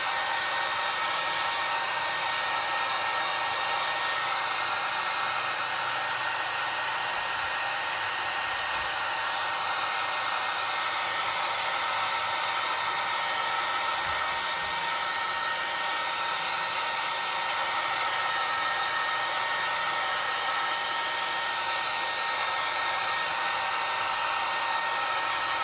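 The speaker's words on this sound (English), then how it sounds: "Sorry, I know it gets loud with the hairdryer." A hairdryer runs continuously at close range for a long stretch, a loud, even rushing hiss with a faint motor whine and no pauses or talking.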